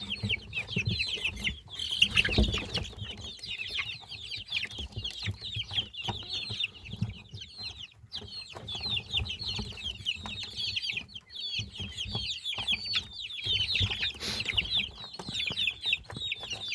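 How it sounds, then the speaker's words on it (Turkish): A flock of mixed-breed young chickens, including large roosters, cluck and chatter continuously close by, with occasional louder squawks. "Horozlar var içinde büyük horozlar."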